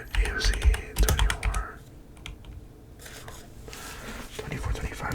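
Computer keyboard typing in bursts of clicky keystrokes, close and fairly soft, with a quieter pause in the middle before the tapping resumes.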